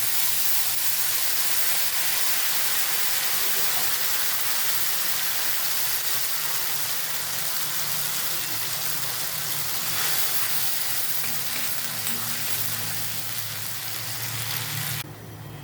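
Spice paste sizzles in a hot pan with jackfruit for a prawn curry, a loud continuous frying hiss close up, with no voices.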